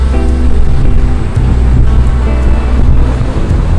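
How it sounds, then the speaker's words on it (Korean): Strong wind buffeting the microphone at Bangameori Beach on Daebudo, Korea, a loud continuous low rumble with gusting swells and some surf noise mixed in, and no talking. "바람도 엄청 많이 불어."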